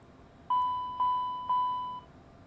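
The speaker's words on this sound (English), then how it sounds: "Smoke detector" A smoke detector test alarm in an X-Plane 12 Challenger 650 cockpit gives three identical, evenly spaced pure-tone beeps, each sustained and slowly fading, clear and moderately loud over a soft background hiss.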